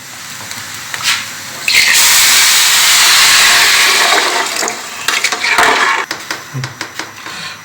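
A loud hiss of steam bursts up as water is poured into a hot cooking pot of mung dal, rice, ginger, garlic and green chilies. It roars steadily for a few seconds, then breaks into softer sputters and clinks.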